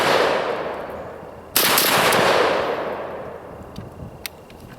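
An AK-47 rifle fires after a sand test: one sharp, loud near shot bursts in and rings out into a long decaying tail, followed by a couple of faint distant clicks.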